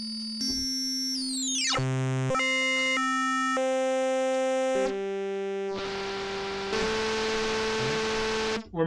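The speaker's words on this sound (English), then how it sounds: "we're most of the way to white noise with just two oscillators, two sine wave oscillators, one modulating the other at max volume, and the feedback set to 100." FM synthesis in Ableton Operator, two sine wave oscillators with one modulating the other at max volume and feedback at 100, shifting from buzzing harmonic tones and stepped pitches into a dense near white noise hiss toward the end.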